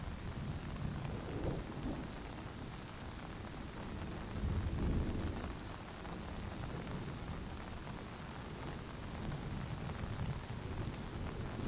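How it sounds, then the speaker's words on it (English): Steady rain falls on trees and soaked ground during a thunderstorm, a dense continuous hiss with a brief louder swell near the middle and low rumbling beneath, no voices. "droplets of rain that dangle on the branches pour onto the saturated ground"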